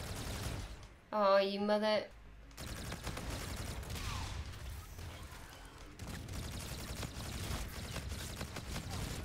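Rapid video game gunfire from a newly tried gun crackles in bursts throughout, fairly faint and mixed with game effects, after a short spoken exclamation near the start.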